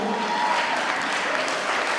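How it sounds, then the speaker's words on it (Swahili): Church congregation clapping together in steady, dense applause throughout, a close, continuous wash of many hands during a sermon. "Pigia Bwana Yesu makofi mazuri."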